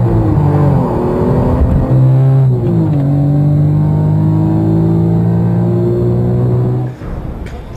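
A Formula 1 race car engine screams at high revs near the circuit at Silverstone, England, its pitch dipping and climbing through gear changes before cutting off abruptly near the end.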